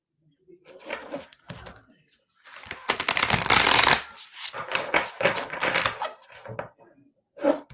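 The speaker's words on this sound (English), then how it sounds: "Nicole, let's pull some cards for you" Oracle cards shuffled by hand at a reading, a close, brisk riffling flutter of card stock in bursts, with a voice talking quietly around it.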